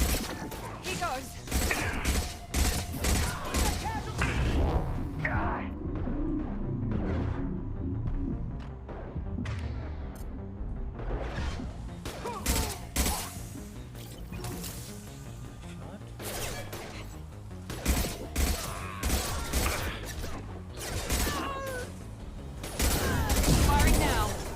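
Gunfire in the video game Mass Effect Legendary Edition, repeated bursts of sharp shots and mechanical clatter over about twenty-five seconds, with someone talking at times over the fighting.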